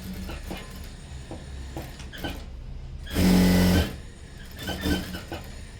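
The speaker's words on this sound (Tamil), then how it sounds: "சின்ன ஒரு டாக்காக போட்டு தைக்க ஆரம்பிச்சிடுறேன்" A sewing machine stitches a small tack on a cut pocket, with a single short, loud burst of rapid mechanical whirring amid quieter handling clicks and rustles.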